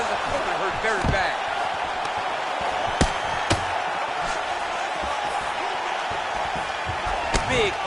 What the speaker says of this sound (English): Big, powerful punch lands